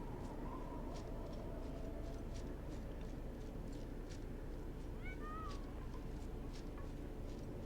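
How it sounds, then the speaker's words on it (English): A cat meows in the video game Champions of Norrath. Short, faint meows and chirps rise above a constant murmur of game background sound, with a cluster of calls about two-thirds of the way through. "I hear you, kitty."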